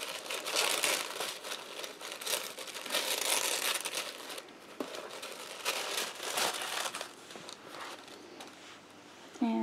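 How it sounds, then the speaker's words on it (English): Gray and blue tissue paper crinkles and rustles almost continuously during an unboxing of a subscription box, loud and close with a few sharper crumples. "And it comes with a gray and blue tissue paper,"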